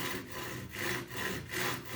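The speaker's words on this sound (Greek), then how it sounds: "Βάζω λοιπόν τον νύχι μου σαν οδηγό και κάνω απαλές κινήσεις με το πριόνι" A hand saw makes gentle, short strokes in wood to cut a small groove. About four even, rhythmic rasps come close up and alone, with no talking.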